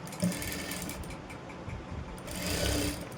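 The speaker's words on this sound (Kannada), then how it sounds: "ನೋಡಿ ಈ ರೀತಿ ಫ್ರಂಟು ಪ್ರೆಸ್ ಸ್ಟಿಚ್ ಹಾಕ್ಕೊಂಡು ಹೋಗಬೇಕು." Soft, fairly faint whirring of a sewing machine stitching a blouse piece, running on steadily and swelling slightly toward the end.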